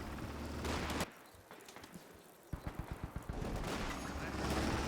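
Heavy .50 cal machine guns rattle in a Company of Heroes 2 battle, opening with a dense sustained burst, then a sparse run of about nine distinct rhythmic shots before continuous loud combat noise returns.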